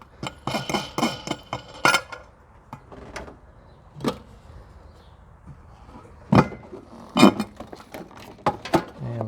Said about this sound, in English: let's take the air cleaner off real quick